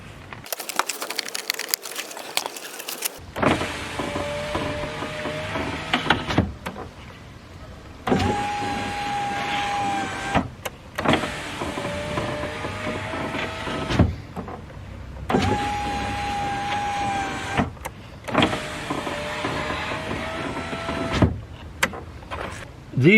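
A power window motor in the front door of a Hyundai Getz raises the newly fitted glass in several separate whirring runs, each a few seconds long and separated by short pauses, heard close up.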